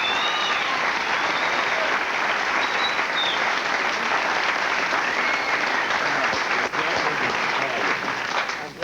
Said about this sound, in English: I'm glad they're applauding now